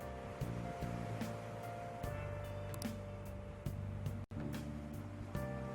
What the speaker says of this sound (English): Ah, some nice relaxing ocean waves.